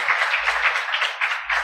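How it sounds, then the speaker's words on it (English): Conference audience in Nairobi applauding a session, a steady wash of clapping with gently pulsing swells, moderately loud and without speech. "they actually deserve another round of applause"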